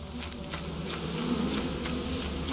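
Swarm of bees buzzing around a hive in the Lethal Company video game, a steady, dense insect drone that holds close and fairly loud throughout with no talk.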